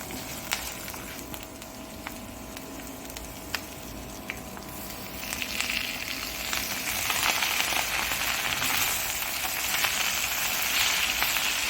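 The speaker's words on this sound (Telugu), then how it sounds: "ఇగోండి పోపు వేగిపోయింది కదా, గోంగూర వేసేస్తాను." Gongura leaves go into a sizzling tempering in a pan for gongura chutney. A quiet sizzle with scattered crackles and pops swells into a louder frying hiss.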